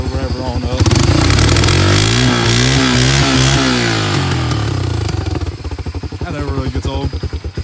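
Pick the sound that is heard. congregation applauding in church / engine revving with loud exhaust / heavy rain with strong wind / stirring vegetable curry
engine revving with loud exhaust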